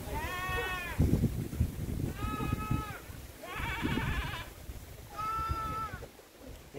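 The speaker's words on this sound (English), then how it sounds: "That's a sheep." Sheep at a corn maze on an orchard farm bleat nearby in four drawn-out, wavering calls, spaced a second or so apart, with rustling and a little background chatter between them.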